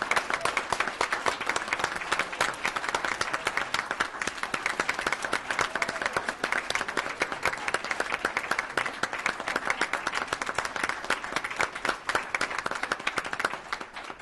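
A city council meeting audience applauds loudly and steadily for a long stretch, dense rapid clapping from many hands filling the room without a break.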